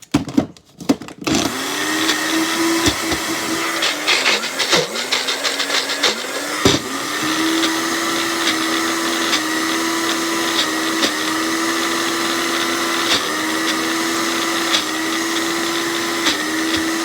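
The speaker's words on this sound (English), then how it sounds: "this is going to kind of put it back in the food processor" A food processor whirs at high speed as it blends pesto, starting with a few short pulses and then running as a steady, loud motor drone for most of the time.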